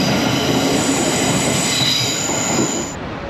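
A train at St Pancras Station in London rolls by with a loud rumbling roar and a high, sustained wheel squeal that fades near the end, close and without voices.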